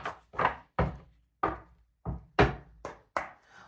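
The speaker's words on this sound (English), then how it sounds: "Do another shuffle." A deck of tarot cards being shuffled, about eight crisp, separate slapping riffles in a steady rhythm, close and fairly loud with nothing else heard.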